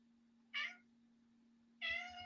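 A house cat meows twice, close and clear, with short separate calls about a second apart over a quiet indoor hum.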